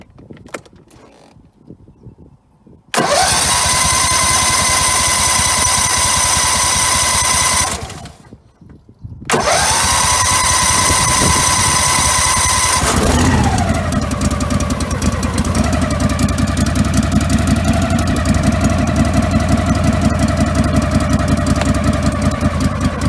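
A 1999 Craftsman GT lawn tractor engine cold-starting, then cutting out briefly before firing up again. It settles into a loud, close, steady idle with a slight shift in tone partway through.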